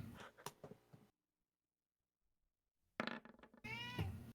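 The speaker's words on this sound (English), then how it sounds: "Did I just hear a cat?" A cat meows loudly at close range, a short burst of harmonic cries after a pause of near silence, with other household noise before the gap.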